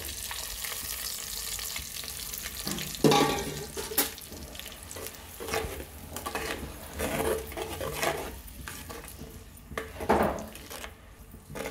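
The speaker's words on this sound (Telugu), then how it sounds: "రెండు నిమిషాల పాటు బాగా వేగనివ్వాలి." Onion paste frying in oil with a steady sizzle, broken by a few louder scraping stirs and clinks of a pan, no voices.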